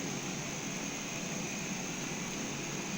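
A steady, loud, broadband roar with a high whine runs unbroken throughout: the APU of a Majestic Q400 turboprop running in a flight simulator.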